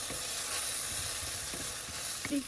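Stuffed tinda (apple gourd) masala roasts in a hot pan for a Punjabi recipe, giving a steady close sizzle with occasional soft scrapes of stirring and no voices.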